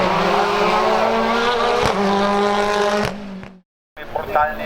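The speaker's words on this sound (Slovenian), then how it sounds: "Brutalni dirkalniki." A race car at the Ilirska Bistrica hillclimb, its engine screaming loud and close with gear shifts, then a sudden cut to silence before it roars again. A commentator talks over it.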